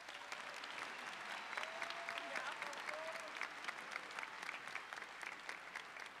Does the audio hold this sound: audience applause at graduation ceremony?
yes